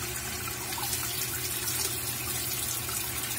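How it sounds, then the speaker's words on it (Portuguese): A Consul 13 kg Maxi Economia washing machine fills through its water jet spray, giving a steady, loud, dense rush of water with no break throughout. "Ela enche pelo jet spray, spray de água, e o dispenser do sabão começa a jogar o sabão"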